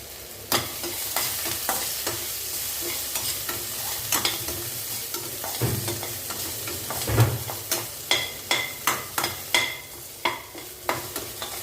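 Onions with asafoetida sauté in a pan, sizzling steadily while a spoon scrapes and knocks against it, the strokes growing into a regular rhythm toward the end.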